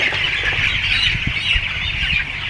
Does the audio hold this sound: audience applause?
no